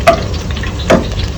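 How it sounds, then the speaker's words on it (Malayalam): Food frying in a pan while making a quick chicken soup, with two short sizzling bursts over a steady low background hiss, close and alone. "ഒന്ന് ഫ്രൈ ആക്കി എടുക്കാം."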